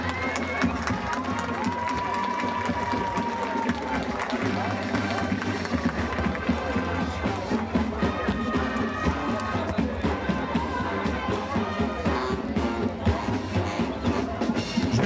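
Townspeople in Cristais Paulista clap and cheer for a marching band in 2005. The applause is dense and continuous with scattered shouts, and voices mix through the crowd noise.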